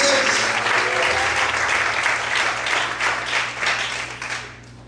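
Sustained loud applause from a church congregation, many hands clapping at once before it tapers off at the end, with faint voices beneath.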